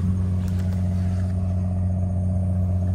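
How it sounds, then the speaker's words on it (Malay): A cargo or tourist boat passes near Pulau Ubin, heard as a steady, loud low engine drone that hums continuously throughout, with faint outdoor background noise. "itu adalah bunyi kapal ataupun bot"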